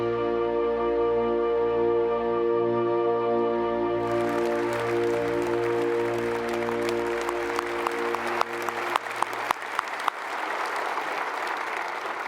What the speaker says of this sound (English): we ask you to join us as we applaud the newest members of the Space